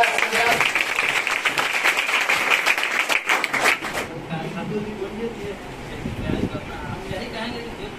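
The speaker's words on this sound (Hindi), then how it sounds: "चलिए एक बार जोरदार तालियां" Audience clapping loudly at a stage event, a dense wash of applause for about four seconds that then thins out, with a voice and background chatter coming through underneath.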